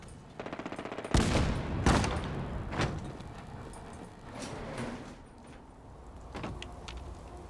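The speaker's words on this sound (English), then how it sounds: "Seemed like someone was shooting a rocket launcher up here." Gunfire in Fallout 4, a burst of rapid shots followed by several heavy, booming blasts spaced a second or so apart, then fainter scattered reports in the distance.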